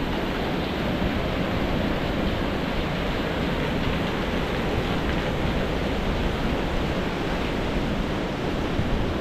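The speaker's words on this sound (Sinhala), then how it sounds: "වතුර වැටෙන සද්ද විතරයි." Water falls steadily nearby, a loud, dense, unbroken rushing roar that fills the whole stretch without pauses or voices.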